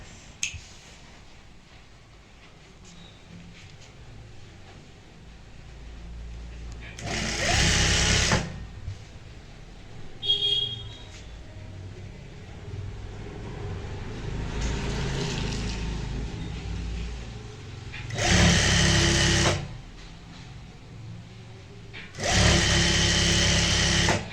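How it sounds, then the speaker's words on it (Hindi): A sewing machine joins four palazzo fabric panels with a half-inch seam, running in three loud close bursts of rapid whirring stitching separated by quieter handling and a soft hum. "चारों पल्लों को इकट्ठे जोड़ते हैं और यहाँ पे आधा इंच चौड़ाई वाली लगाएंगे सिलाई"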